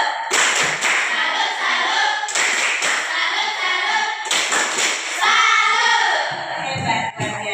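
A classroom salutes a singing group with rhythmic clapping in three loud, patterned bursts separated by short pauses, near and energetic, with a few voices mixed in.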